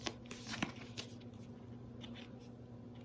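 Tarot cards being shuffled by hand, a few quick riffling bursts near the start, then soft, quiet handling noise close by.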